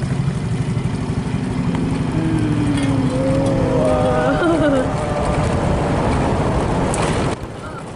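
A motorcycle coasting fast down a steep road toward a waterfall in Barru, South Sulawesi, with the engine off; loud, steady wind and road rush dominate throughout, a faint tonal whine rises midway, and a voice talks over it.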